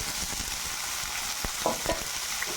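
Chopped green chillies, small coconut pieces and onion frying in a pan, with a steady sizzle and intermittent spoon scrapes and taps as they are stirred.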